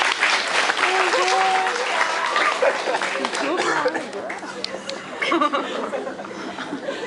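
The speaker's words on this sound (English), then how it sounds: "Nice round of applause for the volunteers." Applause from an audience at a post-prom hypnosis show, cheering the volunteers onstage, a steady clatter of clapping mixed with chuckles and crowd chatter throughout.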